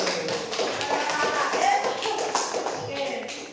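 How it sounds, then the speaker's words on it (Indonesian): A classroom claps for a student: brisk, light hand-clapping and tapping from a group of pupils, fairly close, mixed with ongoing talking voices and some shuffling. "tepuk tangan untuk Arju"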